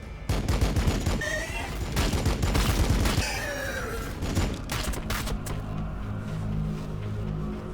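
Rapid bursts of gunfire and heavy weapon shots from Blood Angels units firing an autocannon in the Battlesector strategy game, dense volleys through the first half easing into a lower rumbling hum with scattered thuds.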